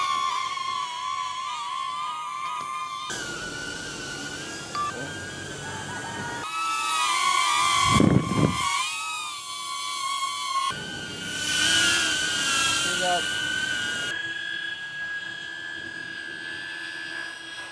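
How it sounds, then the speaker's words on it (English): DJI Neo drone flying on aftermarket Gemfan D51-5 propellers, a steady high-pitched whine with wavering tones that rise and dip as it maneuvers, loud and close, with no talking. "that is the flight of the DJI Neo using the D51 propeller from Gemfan"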